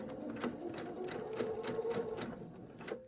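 Sewing machine stitching a seam on a quilt block, a quiet steady run of rapid needle clatter for a few seconds with a soft hum underneath, stopping at the end.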